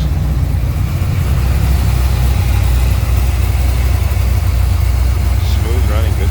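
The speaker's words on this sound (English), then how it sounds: "Smooth running, good sounding V8." A 1976 Chevrolet Corvette C3 coupe with a 383 stroker V8 and HEI ignition idles with a loud, steady, smooth low rumble that holds evenly throughout.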